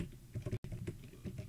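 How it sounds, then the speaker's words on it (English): Fast typing on a computer keyboard, a steady run of close, soft clicky keystrokes with a brief pause partway through, no talk. "you want to type in the name of the 3DSX"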